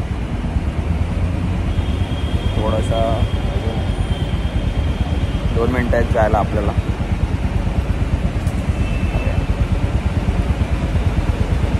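Traffic idles at a signal beneath an overhead metro line, a dense continuous hum and rumble with a few faint passing swells, under a person's speaking voice.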